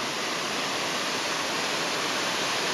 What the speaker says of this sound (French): sur cette belle cascade